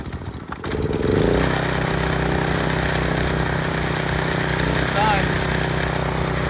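A pressure washer's small gasoline engine runs steadily under load after its carburetor has been cleaned, giving a loud, continuous drone that holds from start-up to the end, with brief vocal sounds near the beginning.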